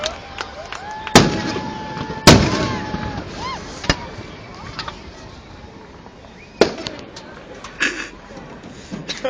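Fourth of July fireworks over West Allis, Wisconsin, in 2013: several sharp booms and crackles spaced unevenly through the stretch, with a couple of whistling streaks and crowd chatter underneath.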